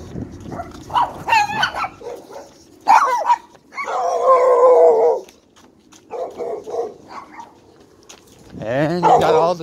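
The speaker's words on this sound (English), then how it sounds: "And you got all the dogs out." Several dogs bark, yip and whimper nearby in irregular bursts along a jogging route, mixed with voices talking.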